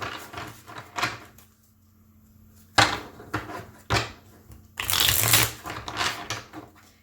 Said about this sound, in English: So now I'm going to shuffle again.